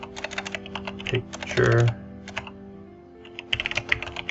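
Someone types on a computer keyboard with quick clustered key clicks in bursts and short pauses, while a voice speaks briefly over the clicking.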